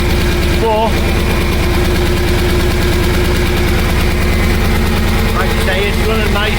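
A V12 engine in a Ferrari Testarossa kit car idles steadily with a low, even rumble, while a person talks briefly over it.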